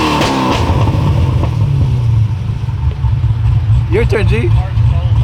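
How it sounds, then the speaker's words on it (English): A stock Japanese-market car engine revs hard in a rev battle, a loud, close, sustained low roar under a brief spoken exchange. "Rev battle."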